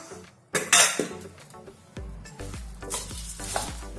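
Puffed rice (mamra) snack being mixed in a pan, a few scraping and clinking strokes of a spoon against metal with a faint sizzle, close and uneven, no voices.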